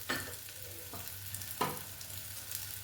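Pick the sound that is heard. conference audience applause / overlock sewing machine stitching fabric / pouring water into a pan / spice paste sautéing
spice paste sautéing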